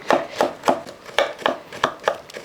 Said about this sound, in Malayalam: ഞാൻ ഈ തേങ്ങ ഇതുപോലെ അരിഞ്ഞ് ചെറിയ കൊത്തായിട്ട് എടുക്കുന്നത്